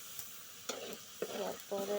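Spices frying in hot oil while being stirred for a botboti dish, with bursts of sizzling and scraping that swell at intervals, close by; a brief word of speech is heard.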